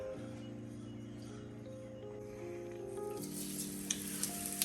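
Cumin seeds sizzle in hot mustard oil for a home-style aloo gobhi, a soft continuous crackle that swells louder near the end.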